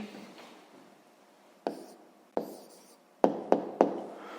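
A pen scratches out an answer to a sixth-grade math exercise on paper, in short strokes and several sharp taps against a quiet background.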